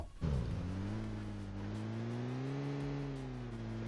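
A car driven in the mobile battle-royale game PUBG Mobile, its engine starting up and then holding a steady, loud revving drone with a slowly rising pitch, close and continuous with no talk over it.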